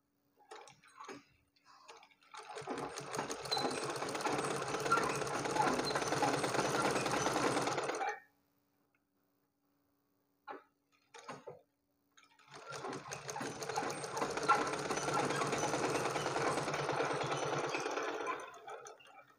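A sewing machine stitches a blouse in two long, steady whirring runs of several seconds each, separated by a quiet pause with a few faint clicks, close by and without talking.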